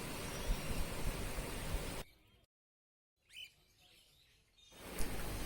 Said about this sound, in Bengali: তো এবারে এক ঝাঁক এক্সোটিক ফিঞ্চ দেখতে পাচ্ছেন এখানে